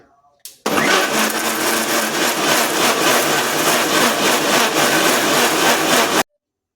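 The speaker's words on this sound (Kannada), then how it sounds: "ಈಗ ನಾವು ಮಿಕ್ಸಿ ಮಾಡ್ಕೊಳ್ಳೋಣ" A kitchen mixer grinder runs loud and steady for about five and a half seconds, blending cooked or fried tomatoes for tomato rice, then cuts off abruptly, with no talk over it.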